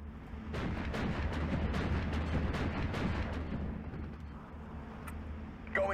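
Mortar and artillery barrage in the World War II strategy game Steel Division 2, a dense run of rapid booming impacts rolling together, loud and continuous before thinning out toward the end.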